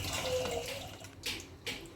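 Water pours and splashes briefly into a pan while making paneer masala, a short gurgling stream followed by a couple of soft splashes, close by.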